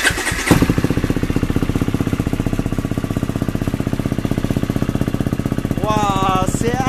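A cold KTM motorcycle with a full FMF exhaust fires up after a short cranking burst and settles into a loud, rapid, steady thumping idle close by, with a brief voice near the end.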